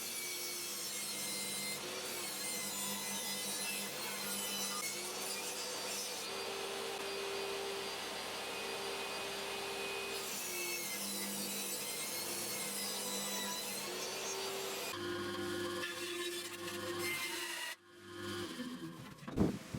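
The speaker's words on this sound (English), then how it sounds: "I used my tapering jig on the table saw to cut the angled trusses, finishing off the cuts on the bandsaw." A bandsaw whines steadily through angled spruce truss pieces in a workshop, a sustained loud buzzing cut with small pitch shifts, ending in a few brief clunks.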